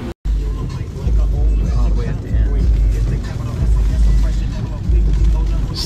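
Steady low engine and road drone from a 2021 Genesis GV80 with its 3.5-liter twin-turbo engine, heard from inside the cabin while driving. Voices talk intermittently over it.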